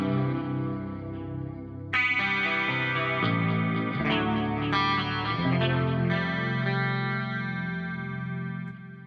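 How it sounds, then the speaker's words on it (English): An electric guitar plays through the clean channel of an amp, sustained ringing chords in a clean tone, each strum letting notes bloom and decay with a slight shimmering effect. "here's this guitar through the clean channel of the amp"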